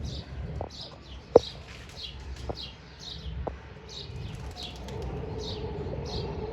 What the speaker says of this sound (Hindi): ये फुल कबूतर है दोस्तों।